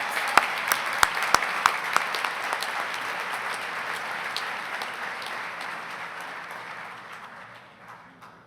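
A crowd applauds distinguished alumni award recipients at a spring commencement ceremony, opening with a few sharp, close claps before settling into broad, steady clapping from a large audience that gradually fades toward the end.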